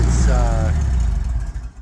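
A Bombardier engine runs after a thorough cleaning, idling with a steady low rumble and a brief rising whine, while a person talks over it.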